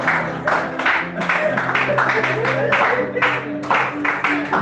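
A church congregation claps and cheers in acclamation of the Lord, a steady wash of applause with rhythmic bursts of clapping over a low murmur of voices, lasting several seconds at moderate loudness.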